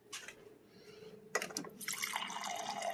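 Tap water running into a container to refill it about three-quarters full while saving tomato seeds, with a sharp splash and steady pour building up in the second half after quieter drips and handling noise.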